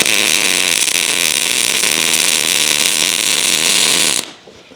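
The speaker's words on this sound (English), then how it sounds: "I'm welding the stop screw to the axle" Electric arc welding a stop screw onto a Yukon Scout front axle in a restoration shop, a steady dense crackling buzz held for about four seconds before it cuts off abruptly.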